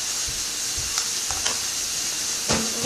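Breakfast cooking in a home kitchen, a steady close frying sizzle and hiss with a few light scrapes and clinks of utensils stirring in the pan, no voices.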